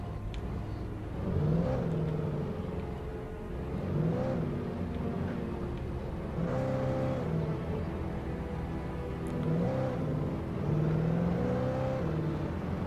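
A car engine in the video game Alan Wake Remastered drones steadily while driving, swelling into repeated revving surges every few seconds, fairly loud and with no voices.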